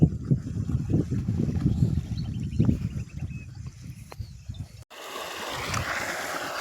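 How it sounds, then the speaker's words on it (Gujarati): Fast, heavy-flowing water churns in a rough, rumbling surge with gusty wind buffeting the microphone, then shifts abruptly to a hissier, more open rush. "ધોમ ધોકારે પાણી હાલે જ મિત્રો, જોઈ લ્યો તમે।"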